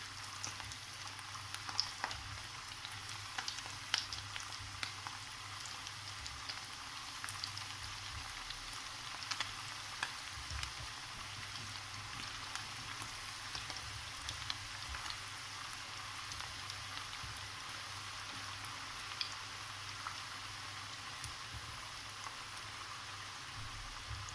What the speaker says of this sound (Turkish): Köftelerim kızarmaya başladı.